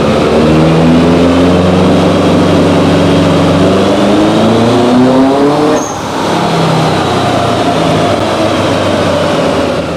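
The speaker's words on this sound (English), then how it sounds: "Just a quick button test on the anti-lag here." A loud Subaru WRX STI engine with anti-lag holds high, steady revs with a stuttering, popping edge, dips briefly, then keeps droning near and constant.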